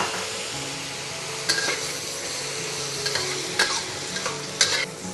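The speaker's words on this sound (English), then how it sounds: "and then stir in the bitter melon all together" Bitter melon stir-fried in a pan with a splash of vinegar, a steady close sizzle under repeated scraping stirs and occasional sharp spatula clicks against the pan.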